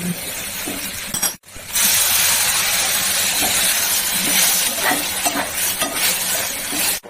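Pointed gourd and small potato pieces with oil, salt and turmeric fry in a pan, sizzling loudly and steadily with scraping stir sounds and a brief break partway, and no talking.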